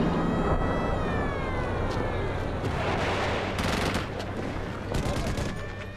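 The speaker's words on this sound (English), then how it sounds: "Jordanian guns and mortars start to shell the Israeli half of Jerusalem." Continuous rumbling bursts of distant gunfire and mortar shelling crackle under a steady siren-like tone, loud and dense throughout, in Jerusalem during the 1967 Six-Day War.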